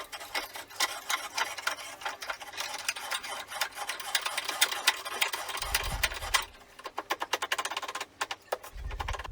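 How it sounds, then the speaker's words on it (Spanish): A wooden workbench vise screw turns stiffly against its wooden nut, rubbing with friction for lack of grease, giving a run of close rhythmic creaks and ticks, with a few low thumps and sharper clicks toward the end. "Todavía se ve un poco dura, pero bueno, es porque está haciendo fricción el tornillo con la madera."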